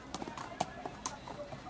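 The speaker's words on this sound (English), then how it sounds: "So Mulan gets on the horse and rides it." Horse hooves clip-clopping as a rider sets off, a handful of quick irregular hoof hits over soft background sound at low volume.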